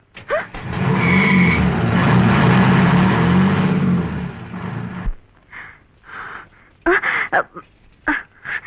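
A vehicle engine in a 1995 Tamil film scene, a loud sustained roar for several seconds as it pulls away, then cutting off, followed by intermittent voices.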